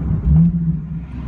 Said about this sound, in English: It has like a deep rumble that lets you know it's there